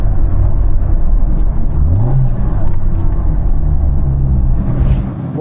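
A car engine rumbles loud and close, then a short throttle blip during a gear downshift sends the revs rising briefly before the steady drone resumes, with no talking.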